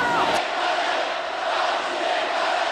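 Huge crowds demonstrating on Wenceslas Square in Prague during the Velvet Revolution, a dense, continuous roar of many voices shouting and cheering together, loud and steady throughout.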